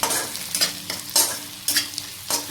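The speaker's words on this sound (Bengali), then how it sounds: "এই ঘির মধ্যে আমি পুরা ফ্রাই করে নেব" Pumpkin frying in plenty of ghee for halwa, with a steady sizzle broken by four or five rhythmic stirring strokes that swell and fade at regular intervals, close and fairly loud.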